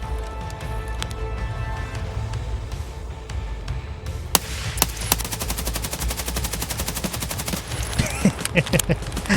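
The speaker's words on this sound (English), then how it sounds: "I decided to full auto mag dump someone from probably 50 meters away." Full-auto rifle fire in Escape from Tarkov, a mag dump at about 50 meters: quiet ambience and footsteps, then a few single shots followed by a long rapid burst of loud, sharp gunfire.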